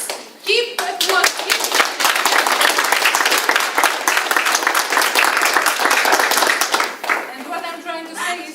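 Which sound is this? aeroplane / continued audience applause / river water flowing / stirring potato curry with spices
continued audience applause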